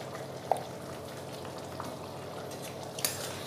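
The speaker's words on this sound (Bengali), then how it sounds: "এই আলুটার সাথে মশলাটা খুব ভালোভাবে কষিয়ে নেব" Potatoes fried with turmeric, garam masala and Kashmiri chilli powder for a fish-head curry give a low, steady sizzle close by, with a couple of faint clicks of a spoon against the pan.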